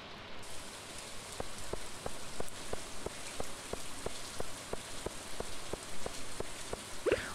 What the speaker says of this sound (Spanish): se supone que esta lluvia es completamente inofensiva